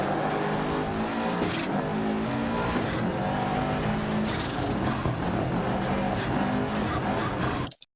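A rally car in Dirt Rally 2.0 on an Australian gravel stage roars continuously at high revs. Tires skid and crunch through a handbrake turn, the engine note stays dense and close until it cuts off abruptly at the end.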